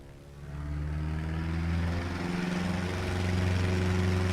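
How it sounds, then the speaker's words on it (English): The engine of a Van's RV-14 aircraft in Microsoft Flight Simulator drones with a steady, low, harmonic hum that swells slightly over a few seconds, with no talking. "I just love that engine note."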